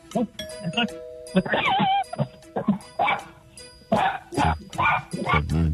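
A person imitates a dog, letting out a rapid string of short, loud barks in bursts for a radio contest, with a host's voice counting between them.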